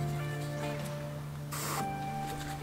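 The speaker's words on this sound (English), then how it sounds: "soak it down with some battery cleaner" A single short burst of battery cleaner sprayed from a can onto a corroded positive terminal of a Nissan Pathfinder car battery in a garage, hissing briefly over a steady background hum.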